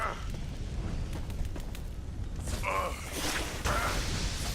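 Fire attack from an enemy in the steampunk dungeon game Vaporum, a loud whooshing, crackling roar that swells after a quieter mechanical stretch, with bright bursts near the end.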